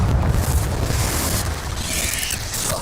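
A Confringo blasting spell in Hogwarts Legacy erupts as a deep, rumbling explosion that rolls on for a few seconds, loud and sustained with no voices.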